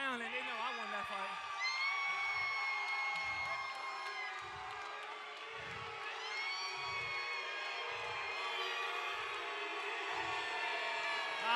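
A large mixed crowd at a fight night keeps up a steady roar of cheering, whoops and yells throughout. Rhythmic low thumps pulse beneath the crowd noise.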